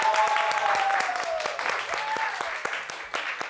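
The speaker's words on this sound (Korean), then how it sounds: "큰 박수 부탁드립니다." An audience claps to welcome a pastor at a Protestant program event, steady applause with sharp individual claps near the microphone while a tone sweeps and fades behind it.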